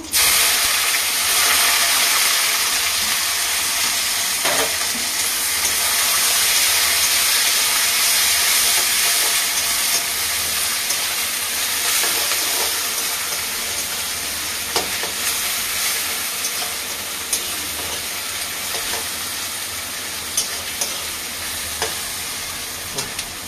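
Sugar, garam masala, dried red chilli, bay leaves and onion frying in hot oil for a chicken dish, a loud, steady sizzle and hiss that continues throughout with no one speaking.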